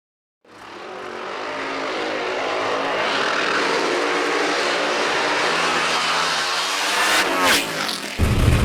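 A nitro Funny Car drag racing run roars steadily as one sustained, loud engine blast from start to finish, with a burst of change near the end.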